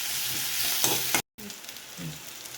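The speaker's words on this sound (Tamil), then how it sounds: "கருவேப்பிலையும் செத்தமிளகாய் 2 நுள்ளி வச்சுருக்கிறேன், அதையும் போடுவோம். நல்லா வதங்கட்டும்." Curry leaves and dried red chillies sizzle in hot oil for a Jaffna-style sambar, with a steady crackling fry, a stirring scrape, and a brief drop to silence before the frying resumes.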